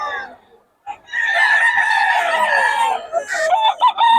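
A Sweater gamecock rooster crows once, loud and close, in a long drawn-out call with a rising and falling tail, after a brief quiet pause.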